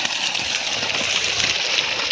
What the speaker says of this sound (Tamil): மோட்டார் ஓடிக்கிட்டு இருக்கு நல்லாவே ப்ரெஷராக வந்து தண்ணி ஊற்றிக்கிட்டு இருக்குது